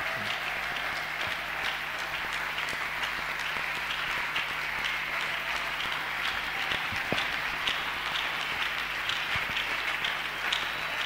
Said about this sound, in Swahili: Tunaweza kumchapia Bwana makofi.